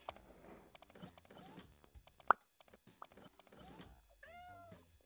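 A cartoon cat meows in the Toca Life World video game, a short rising-falling meow near the end after scattered small clicks and plops, close and clear.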